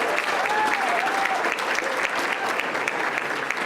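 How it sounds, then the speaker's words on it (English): An audience at a public forum on social services applauds a nonprofit CEO, steady dense clapping from a crowd filling the whole stretch without letup. "Give him another round of applause."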